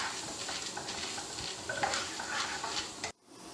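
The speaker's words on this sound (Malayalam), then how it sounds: "ഇതിലേക്ക് നമുക്ക് കടുകും ഉഴുന്നുപരിപ്പും കടലപ്പരിപ്പും ജീരകവും ചേർത്ത് കൊടുക്കാം" Mustard seeds, urad dal, chana dal and cumin sizzle steadily in hot oil for a brinjal fry, with a bright continuous crackle and faint stirring, ending abruptly; no talking.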